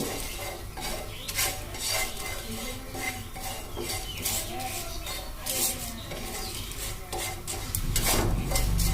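Fennel seeds and cumin being lightly stirred on a dry tawa for a roasted vegetarian curry spice mix, with a steady scraping and clinking of a spoon against metal throughout, close and continuous, growing a little louder near the end.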